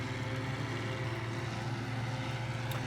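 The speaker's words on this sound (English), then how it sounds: "I like the sound of this tractor when it's under load. I think it's kind of a cool effect. The quiet rumble it has." A tractor in Farming Simulator 2013 rumbles steadily under load, a low droning engine hum with a constant, even level throughout and no talking over it.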